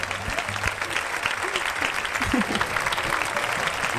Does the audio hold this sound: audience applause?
yes